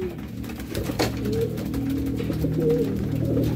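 Racing pigeons coo softly in a loft after a fun race, low repeated burbling calls layered over steady ambient noise, fairly close and continuous.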